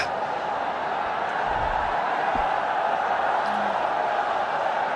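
Steady crowd roar fills a cricket stadium during a must-win match for Pakistan, a broad continuous swell of noise after a wicket, with a couple of faint low thumps and no clear voices above it.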